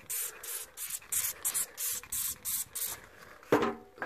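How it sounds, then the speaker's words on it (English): Washing-up liquid squirted from a recycled spray bottle while cleaning a uPVC window frame: a run of about ten short, hissing spray bursts in a steady rhythm, close and fairly loud, with a clunk near the end. "So I'm going to spray that all the way around."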